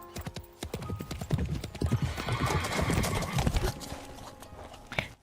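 Horse hooves clip-clop in a quick, uneven rhythm in a video game, building in loudness, followed by a whinny near the end; the sound is close and clear with no talk.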